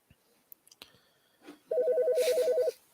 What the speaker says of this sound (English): Are you getting a phone call?